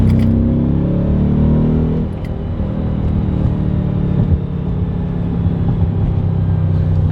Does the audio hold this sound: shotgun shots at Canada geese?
no